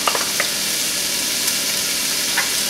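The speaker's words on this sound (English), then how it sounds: "Now go ahead and add your prosciutto and saute it a bit." Prosciutto and onions sauté in a pan for an artichoke frittata, producing a steady close sizzle and hiss with a few faint stirring taps, no voices.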